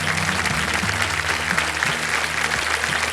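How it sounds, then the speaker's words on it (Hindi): A studio audience applauds a contestant on a televised quiz show, steady, loud, continuous clapping with a low musical bed underneath. "तालियां बज जाए इनके लिए"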